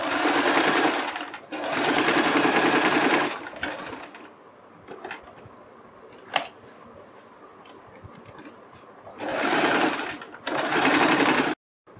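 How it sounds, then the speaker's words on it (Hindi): A sewing machine stitches lining onto blouse fabric in loud, rapid bursts of whirring, each one to two seconds long. Quieter gaps between the bursts carry light handling clicks and rustles. "इसके ऊपर हम सिलाई लगा लेंगे, ताकि हमारी लाइनिंग और ये कपड़ा एक दूसरे में जुड़ जाए"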